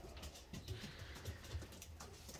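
Collared doves coo back and forth toward the nest, soft repeated low hooting calls in a short rhythmic series, fairly close, with light background noise and no talking.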